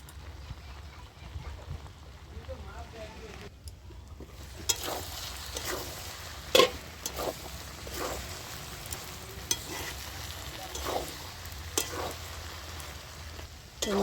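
Ground spice paste with tomato frying in a pan for a vegetarian papaya and potato curry; a few quiet seconds give way to a moderate sizzle with regular spatula taps and scrapes, no voices.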